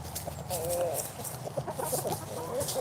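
Backyard chickens cluck and murmur close by in a busy, overlapping run of short calls, with some louder squawks and a little rustling.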